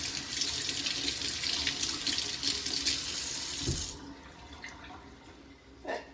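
Water from a tap runs steadily over hands at a sink, loud and close for about four seconds before the flow stops, leaving faint drips and a soft splash.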